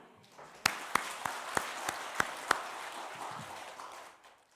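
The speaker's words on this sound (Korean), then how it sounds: "하나님께 영광의 박수." A small church congregation at a Christmas thanksgiving service claps in a short, sparse rhythm, with about seven distinct, evenly spaced loud claps over softer scattered clapping that fades out.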